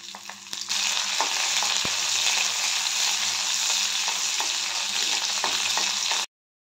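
Green chilies and cumin seeds frying in hot mustard oil in a pan, a steady close sizzle with faint stirring clicks throughout, cutting off abruptly at the end.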